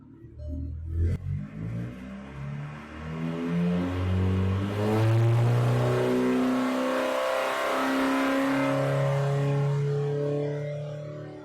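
A loud car engine starts and revs hard, the pitch climbing steadily and holding at a high roar, close by with no talking.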